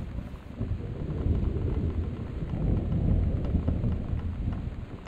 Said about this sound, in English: The thunder does not make it any better.